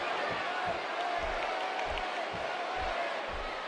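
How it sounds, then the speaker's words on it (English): Wrestling arena crowd at a WWE-style match keeps up a steady roar of cheering and whoops, a dense continuous wall of noise with rhythmic low thumps underneath, heard at a distance. "And Michael, it sounds to me like this crowd already picked the one who they want to win this match."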